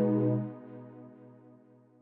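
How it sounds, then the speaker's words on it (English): A brass chord stab from the Purity synth's Big Anna Brass preset hits once with a bright attack, then rings and slowly decays for about two seconds, alone without any talk. "the next thing I added was this little just like chord stab with this purity"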